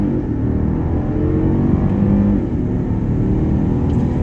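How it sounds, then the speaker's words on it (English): A 2013 Mercedes S550 accelerates hard, a low, loud engine rumble from inside the cabin climbing smoothly and steadily with no one speaking. "Let's go ahead and hit the gas."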